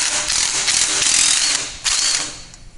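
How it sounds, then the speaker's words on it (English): A 9/16 socket on a ratchet loosens the cable termination on a lift carriage, giving a close run of quick metallic clicks that break off briefly and then carry on more quietly. "disconnect the termination point of your cable using the same 9/16 socket"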